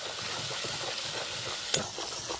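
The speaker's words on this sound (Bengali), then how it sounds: "ভালো করে মশলাটা আমি একটু কষিয়ে নেব।" Turmeric and chili powder fry in oil in a pan with a continuous soft sizzle and faint stirring scrapes, one brief sharper clink near the end, close up without any voices.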